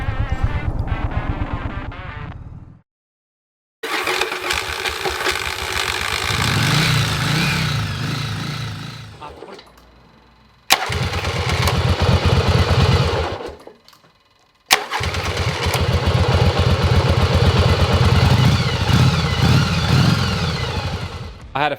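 A Yamaha XV750 motorcycle engine that has sat unused for a while runs rough and loud in three close bursts, with an uneven, lumpy idle that revs up, then cuts out briefly between runs.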